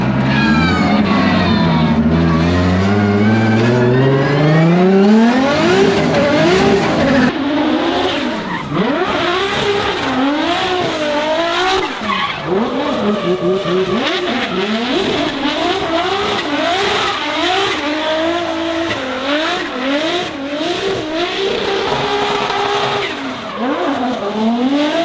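Drift car tearing around a figure-8 track at a skatepark, engine revving hard up and down in repeated rising and falling sweeps with loud tire squeals, close and continuous throughout.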